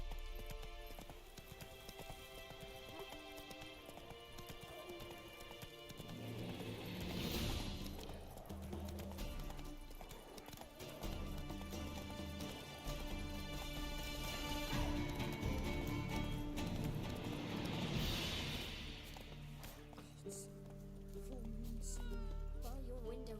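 Horse hooves clip-clop at a riding pace in The Witcher 3, a steady rhythm under a constant bed of game music and ambience, moderately loud throughout.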